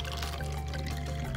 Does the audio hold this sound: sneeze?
no